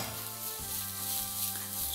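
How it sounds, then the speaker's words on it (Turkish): Thinly sliced carrots land in a frying pan of vegetables, which keep up a soft, continuous sizzle with a few faint stirring scrapes. "O yüzden hemen havuçları ilave edeyim."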